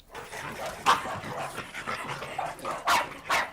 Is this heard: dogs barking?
yes